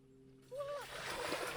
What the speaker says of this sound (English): Are you gonna do this water crossing?